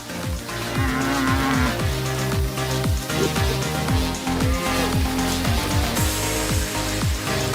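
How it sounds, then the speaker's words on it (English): A herd of beef cattle lows in a rotational grazing field, with repeated deep moos overlapping one another in a steady, continuous chorus with no talking. "In our fields is our herd, our cattle herd."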